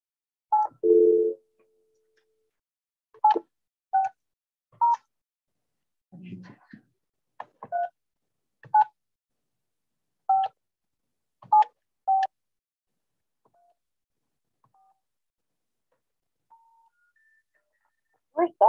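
Telephone keypad tones beep in short separate presses, a scattered sequence of dialed digits with gaps between them, clear and close, plus a brief low voice-like burst early on.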